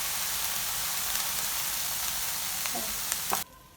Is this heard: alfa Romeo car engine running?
no